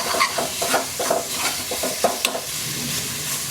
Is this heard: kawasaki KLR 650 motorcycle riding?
no